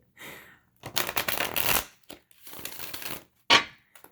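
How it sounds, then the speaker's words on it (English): Tarot cards are shuffled in several quick riffling bursts, loud and close, with short pauses between them and a final sharp snap. "I hope my shuffling's not too loud."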